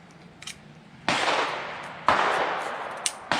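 A Ruger Wrangler .22LR single action revolver fires three sharp, loud shots about a second apart outdoors, each followed by a ringing decay, with faint clicks of the action between them.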